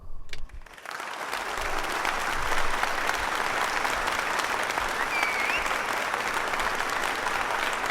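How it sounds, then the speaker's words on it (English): A podcast audience breaks into a full round of applause that swells after the first second and holds steady and loud, dense clapping with a few whoops near the middle. "Let's give him his round of applause"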